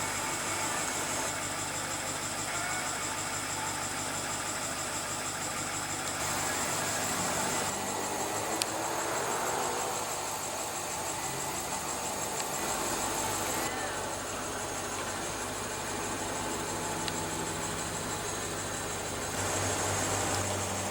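A 2016 BMW 750i with a 4.4 L twin-turbo V8 idling steadily, a smooth continuous hum heard close with no change in revs.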